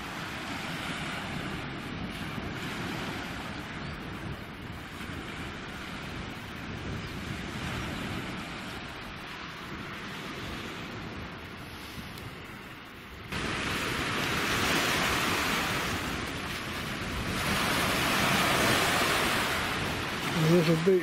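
Waves wash over rocks on a small rocky beach at Lilstock, West Somerset, a continuous broadband surf roar mixed with wind buffeting the microphone, swelling louder in the second half.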